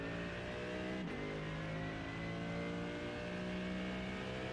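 A race car engine in the iRacing video game holds a steady high-revving drone, with a brief dip around one second that suggests a quick gear shift, and the sound continues unbroken to the end.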